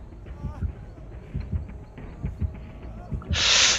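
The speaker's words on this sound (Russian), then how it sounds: "сердцебиение нагоняет просто по мозгам" Rhythmic thumping heartbeat pulses of the killer's terror radius in the Dead by Daylight video game, steady and moderately loud, ending with a sudden burst of hiss; no talk.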